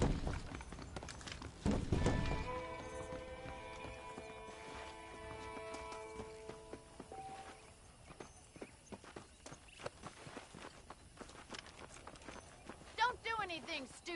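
Horse hooves clip-clop steadily across a ranch in the Red Dead Redemption video game, mixed with game music and ambient sounds, with a short snort near the end.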